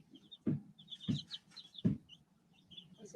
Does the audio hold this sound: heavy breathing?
no